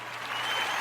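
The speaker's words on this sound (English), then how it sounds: "hold your applause" Applause on a radio show, a steady wash of clapping that swells slightly and holds loud and close from start to end.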